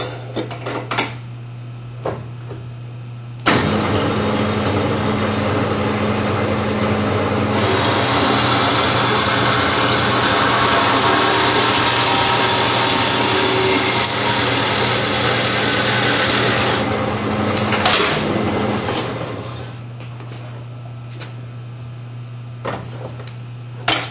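A cold saw trims bent steel tubing clamped in a jig bolted into the saw's vise, for tubular S10 control arms: a loud, sustained grinding cut of roughly fifteen seconds over a steady machine hum, with no talk.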